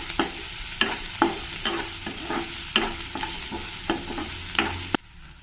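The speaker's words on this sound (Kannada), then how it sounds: "ಇದನ್ನೆಲ್ಲ ಸ್ವಲ್ಪ ಚೆನ್ನಾಗಿ ಫ್ರೈ ಮಾಡ್ಕೊಳ್ತೀನಿ ಈರುಳ್ಳಿ ಒಂದು ಸ್ವಲ್ಪ ಟ್ರಾನ್ಸ್ಪರೆಂಟ್ ಥರ ಆಗೋವರೆಗೂ ಅಷ್ಟೇ" Chopped onion frying in a pan until translucent, a close, steady sizzle punctuated by about ten rhythmic scrapes and knocks of a spatula stirring, alone without speech.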